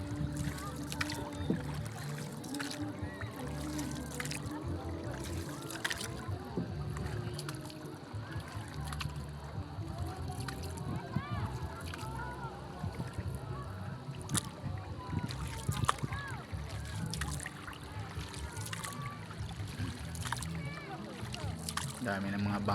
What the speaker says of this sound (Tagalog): Dami ng mga bangka rito.